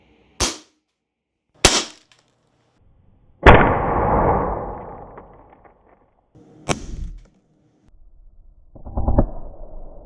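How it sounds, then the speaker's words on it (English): A pellet gun fires H&N Sport Grizzly hollow point slugs in a test of whether it can kill a hog. Several sharp, loud cracks are spaced seconds apart, and one is followed by a longer rumbling decay. "Last but not least, we're gonna shoot the Grizzly H&N Sport hollow point slug."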